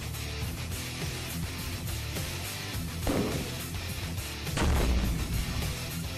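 Artillery-like booms from grenade explosions in the Cyborg video game, two or three dull blasts rising over a busy game soundtrack, the last one heaviest.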